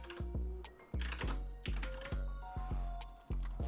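Keys struck on a computer keyboard while text is typed into an editing program, a close, quiet run of about a dozen separate clacky taps in an uneven rhythm, with no voices.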